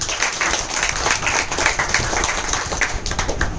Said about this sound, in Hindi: एक बार सर के लिए एक बार जोरदार ताली हो जाए